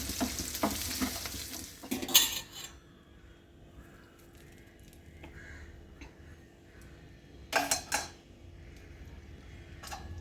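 Sliced shallots and mustard seeds fry in a pan with a soft, steady crackle, broken by two short bursts of scraping and stirring near the start and again later.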